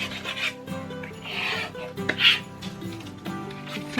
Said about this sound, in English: And then I'll get my weeding tool and give that a burnish.